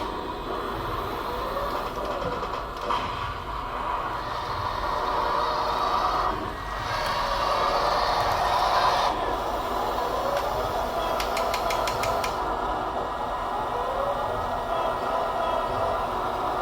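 A TongDe Churchill RC tank model drives around with a continuous rumbling, whirring drive. Its tone swells and shifts as speed changes, and it sounds close and steady, with no voices.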